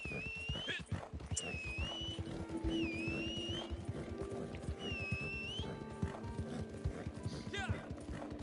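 A horse whinnies in Red Dead Redemption 2, with high, sweeping neighs recurring over a steady patter of hooves and busy game sounds, while people talk over it.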